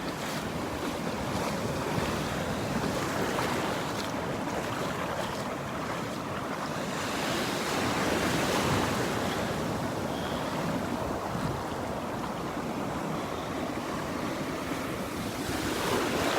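Ocean surf at Pawleys Island on a morning beach: steady roaring wash of breaking waves mixed with strong wind buffeting the microphone, continuous and loud throughout with no voices.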